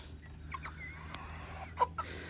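Quiet clucking from six backyard chickens at close range, scattered soft calls with one sharper cluck near the end, over a low background hum.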